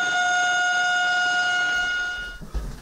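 Locomotive horns blare as sirens during a minute of silence commemorating Khojaly genocide victims, a sustained, steady multi-tone wail held for about two seconds before fading into low rumbling noise.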